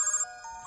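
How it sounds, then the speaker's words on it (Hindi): A mobile phone ringtone chimes, a short bright electronic melody of bell-like tones heard alone and fairly clear. "फोन बज रहा है, उसी का होगा।"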